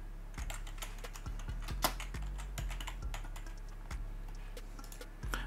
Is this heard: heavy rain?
no